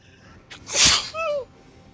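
A single loud, close sneeze bursts out with a sharp inhale and explosive release, alone against quiet background.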